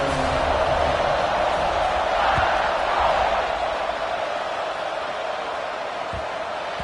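Stadium crowd in an NCAA college football video game, a steady loud roar of cheering spectators before a kickoff, continuous and broad with no pauses.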